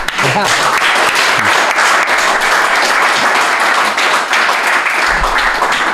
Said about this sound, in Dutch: een applaus voor Casper van der Meulen